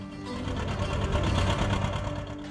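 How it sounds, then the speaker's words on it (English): A John Deere two-cylinder tractor engine runs steadily on a farm, producing a fast, even mechanical chatter that holds at a moderate level throughout. "We always had John Deere tractors on the farm, and there's just something about that 2-cylinder sound"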